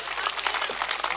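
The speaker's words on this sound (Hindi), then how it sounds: "पहला भजन खत्म हुआ, कृपया करके ताली बजाइए" An audience bursts into steady applause after a bhajan is recited at a Hindi comedy poetry gathering: a dense, continuous clatter of many hands, brief and fairly close.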